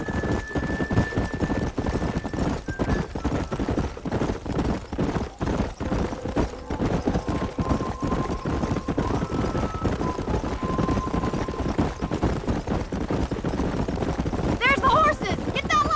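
Steady clip-clopping hoofbeats of galloping wild horses in Red Dead Redemption fill the clip, with people talking over them and a brief burst of sound near the end.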